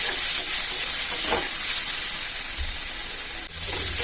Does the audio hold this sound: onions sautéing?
yes